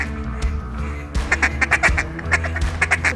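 Ducks in a cornfield during a blizzard give a burst of repeated, fairly close quacks in a quick uneven series that follows a windy, muffled stretch.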